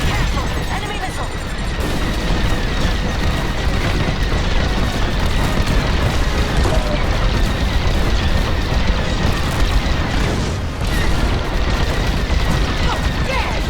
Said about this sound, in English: Careful! Enemy missile!